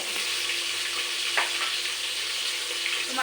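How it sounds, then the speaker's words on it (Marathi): Onion sizzles in a pan with a continuous, even hiss at moderate volume, close by and with no talking. "आता सगळ्यात आधी कांदा घेते भाजून"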